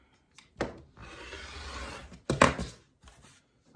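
Quilting fabric strip being trimmed for a Bargello quilt, a brief rubbing, slicing stroke of a cutter across fabric, with a louder sharp cut near the end, close and alone.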